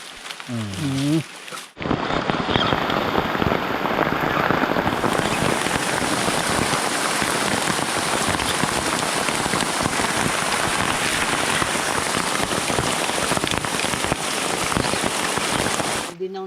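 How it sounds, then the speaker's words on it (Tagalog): Heavy rain pours steadily and loudly outdoors in the Philippine countryside, a dense continuous roar of drops after a brief moment of a voice at the start. "Nabutan pa tayo ng malakas na ulan"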